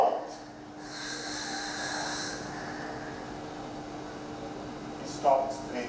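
A sleeping child with obstructive sleep apnea snores and breathes noisily, with a snorting gasp at the start and another near the end over a steady background hum.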